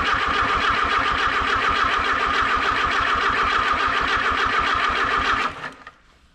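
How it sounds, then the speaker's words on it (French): A 1987 Jeep engine cranking on a restart attempt with the ignition disconnected, the starter turning it over in a fast, steady rhythmic churn for several seconds before cutting off abruptly. "et ensuite on fera une tentative de démarrage"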